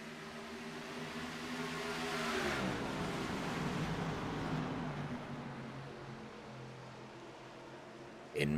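Stock cars roar away together on a NASCAR Xfinity Series race restart at Phoenix, a loud, sustained engine wash with pitch climbing as the field accelerates, broad and continuous throughout.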